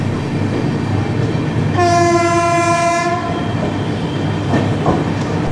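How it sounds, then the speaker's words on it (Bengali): A Dehradun Howrah Superfast Express runs at over 100 km/h past Barddhaman Junction, its loud steady rumble and rail clatter joined midway by a long blast of the horn. "বর্ধমান ক্রস করার কিছুক্ষণ পরেই ট্রেন ছুটতে শুরু করলো 106 কিলোমিটার/আওয়ার স্পিডের ওপরে"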